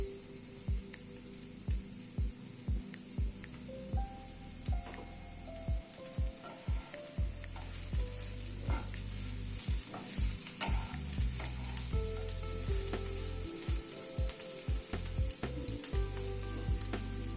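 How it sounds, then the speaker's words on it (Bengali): Pieces of lentil cake frying in a pan in a bitter gourd dish, a constant hiss of oil punctuated by regular scraping stirs of a spatula, close and even throughout. "এবার এই ডালের চাপটিগুলোকে ছোট ছোট করে টুকরো করে এর মধ্যে দিয়ে দিচ্ছি।"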